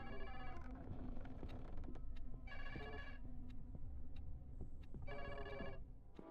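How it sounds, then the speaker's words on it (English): An insistent telephone bell rings in the horror video game Luto, coming in three separate bursts with short pauses between them, clear above a low background hum. "I'm not answering this phone ever. It's so obnoxious, I refuse to answer it."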